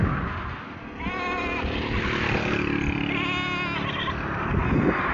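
Goats bleating nearby on a cool overcast morning in rural Ilocos Sur, two clear wavering bleats a second or so apart over a steady background rumble that sounds like a passing motorbike.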